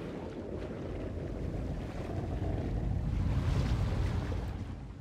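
Steady churning water and sloshing waves in the Little Nightmares video game, a continuous rumbling wash that swells slightly louder toward the end, with no voices.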